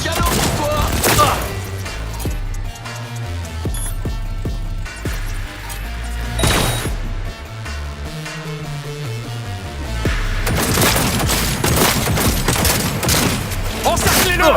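Rapid bursts of gunfire in the Cyberpunk 2077 video game, dense volleys of shots over a heavy game score with explosions and shouted combat voices, loud and continuous throughout.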